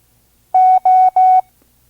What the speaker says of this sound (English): you are about to learn your 8th Morse code character.